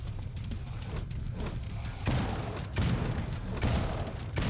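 Grenade blasts in the Necromunda: Hired Gun shooter, a few dull booming bursts spaced about a second apart over a dense rumbling combat backdrop.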